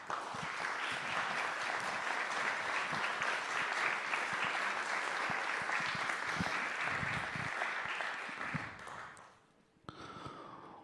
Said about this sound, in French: Merci d'accueillir et d'applaudir Yves Agide.